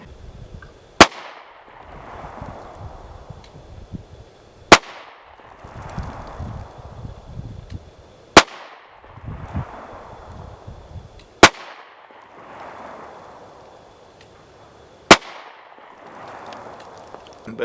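A Springfield Armory Hellcat Pro pistol fires at an outdoor range, five sharp, loud single shots spaced several seconds apart, each followed by a fading echo.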